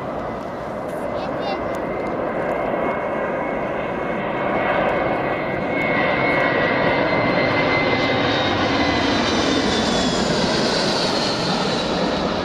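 An Ilyushin Il-96-300 airliner of Rossiya lands on runway 25 at Krakow, its jet engines roaring steadily and loud for the whole stretch and swelling slightly as it comes closer.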